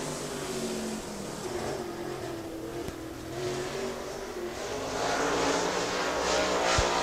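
A late model race car runs a qualifying lap at a racetrack, its engine droning steadily at a distance and swelling louder toward the end.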